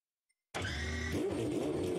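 A loud racing car engine in Gran Turismo Sport roars in after half a second of silence, holding a steady, droning rev with slight pitch wobbles throughout.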